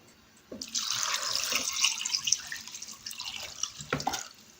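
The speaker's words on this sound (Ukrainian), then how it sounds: "Ми нарізали нашу картоплю і тепер заливаємо її холодною водою." Cold running water splashes steadily over cut potatoes in a container for several seconds, a bright continuous pour with a couple of louder splashes near the end.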